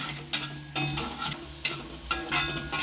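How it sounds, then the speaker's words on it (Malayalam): Sliced shallots, white garlic and chillies frying in oil in a pan for ginger curry, a steady close sizzle broken by several sharp stirring scrapes at irregular intervals, no voices. "നമുക്ക് കൊച്ചുള്ളി അരിഞ്ഞ് വെച്ചത് നമുക്ക് ഇട്ട് കൊടുക്കാം പിന്നെ വെളുത്തുള്ളി വെള്ള സായ്പനയും കൂടി ഇട്ട് കൊടുക്കാം"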